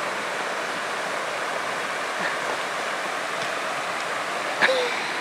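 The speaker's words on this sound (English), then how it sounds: "There's a waterfall over here." A waterfall in the video game Hiking Simulator gives a steady, dense rush of falling water, loud and continuous with no pauses and no voices over it.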